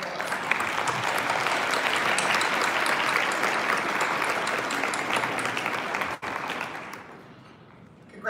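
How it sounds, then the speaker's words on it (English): An audience at a live nursing network presentation applauds a student award winner with sustained, loud, dense clapping that continues for several seconds before tapering off. "so we can give you a round of applause"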